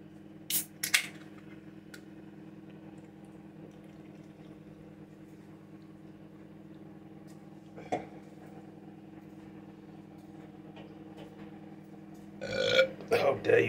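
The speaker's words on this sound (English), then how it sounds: "How dare you burp like that?" A person burping after drinking Fanta: one long, steady, low belch drones through most of the stretch, with short sharp noises at the start and a louder burst at the end.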